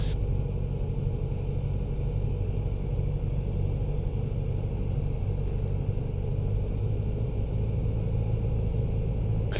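Small airplane engine droning steadily during a practice spin, a loud, constant rumbling hum with a rapid ticking pulse, heard from inside the cabin with no talk.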